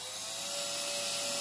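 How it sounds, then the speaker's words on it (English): A small, very fine drill bit pre-drills screw holes while mounting craft-room lighting, giving a steady, close, high-pitched whine that holds evenly throughout with no talking. "When you pre-drill the holes, and I just used the teeniest drill bit"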